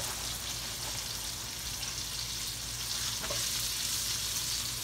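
Fresh okra fries in hot oil with a steady, dense sizzle and crackle that holds at an even level throughout, close to the pan, with no voices.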